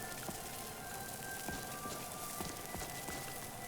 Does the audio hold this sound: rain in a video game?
yes